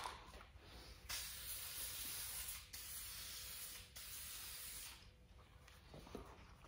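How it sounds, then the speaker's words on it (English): Nightshades spray paint hissing from an aerosol can onto a motorcycle tour pack light, in several steady bursts broken by short pauses, fairly close and with no talking. "Spray from the bottom up."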